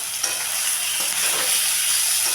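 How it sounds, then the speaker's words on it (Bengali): Tengra catfish with brinjal sautéing in a pan as a spicy curry, with a steady, close, bright sizzle and occasional stirring scrapes throughout, no voices. "এবার আমি আরও কিছুক্ষণ এটাকে কষিয়ে নেব"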